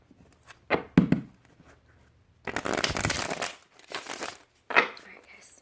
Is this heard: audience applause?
no